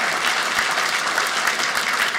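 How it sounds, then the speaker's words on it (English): An evening audience breaks into steady, dense applause, many hands clapping continuously and fairly loudly for the full stretch with no talk over it. "By round of applause"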